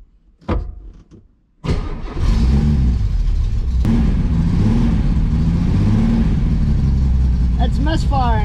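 A Datsun 240Z engine cranks briefly, then catches and runs loudly close by with an uneven, misfiring idle that keeps going steadily to the end.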